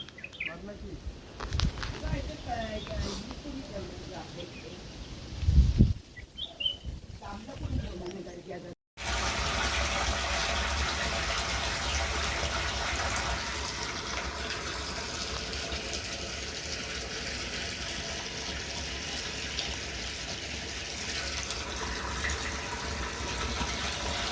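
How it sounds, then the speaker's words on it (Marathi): Water runs into a rooftop tank at a home in the Konkan region. The clip opens with voices and some bird calls, then a steady rushing of flowing water carries on without a break, with talk over it. "वरती टाकीवर चढलं पाणी भरायला"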